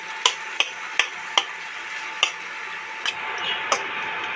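Onions sautéed in a pan until golden brown for prawn biryani, with a spoon scraping and clinking against the pan in steady regular strokes over a soft continuous sizzle, close up and without talk.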